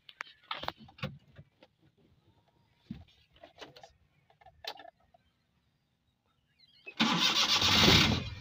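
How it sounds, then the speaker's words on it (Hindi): A Suzuki Carry van's engine cranks and catches near the end, a loud sudden start after several seconds of quiet background voices and small sounds. "आप देस ए इंजन स्टार्ट कर"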